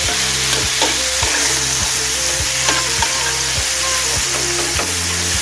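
River fish curry masala with amudi fish sizzles in a hot pan as it is stirred and sautéed, with a constant frying hiss and a spatula scraping at a regular beat.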